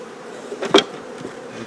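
Honeybees hum and buzz nearby, with a brief louder pass of one bee flying close to the microphone before fading back.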